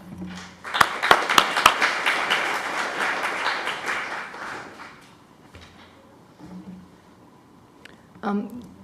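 Audience applause welcomes two speakers at a Ukraine media research talk, a dense burst of many hands clapping for about four seconds that fades out, followed by faint room sounds and brief talk.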